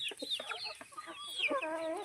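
Several free-range country chickens cluck and chatter softly nearby while eating feed on a farm, a busy overlapping flock murmur with a few rising squawks.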